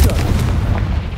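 Confringo fire spell exploding in Hogwarts Legacy, a loud, close burst of booms with a deep rumble and a few sharp cracks over about a second.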